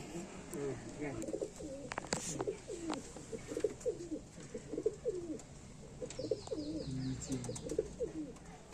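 Panja pigeons coo in repeated soft, throaty phrases close by, with a few brief higher chirps and faint background noise.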